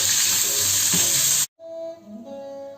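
Bacon and artichoke frying in a pan give a loud, steady sizzle for the first half; it cuts off abruptly, and a quieter clatter with faint tonal kitchen sounds follows.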